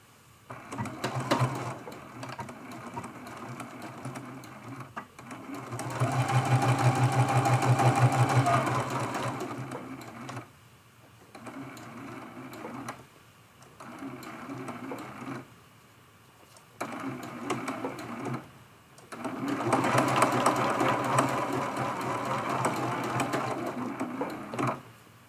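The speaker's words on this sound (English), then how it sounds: "as soon as I'm done sewing the snowman, then we'll do questions." A sewing machine stitches around a quilted snowman ornament, running in several bursts of fast, rhythmic mechanical whirring with pauses between them. Someone talks quietly in places.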